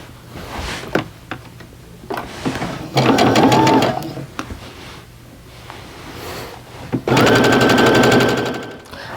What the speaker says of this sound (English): just sew right on off of that strip and then grab your next set and chain piece that through